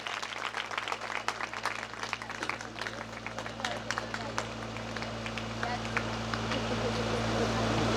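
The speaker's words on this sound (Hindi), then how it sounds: "एक बार जोरदार तालियों से स्वागत करेंगे।" An audience at a stage ceremony gives steady, crackling applause to welcome a student being honoured for the second time. The clapping stays fairly even throughout with a low electrical hum beneath it, growing slightly louder toward the end.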